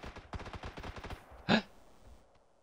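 A single sharp gunshot from the video game PUBG, played on Xbox Series X, rings out as a loud, brief burst after a run of quieter rhythmic taps, then fades into near silence.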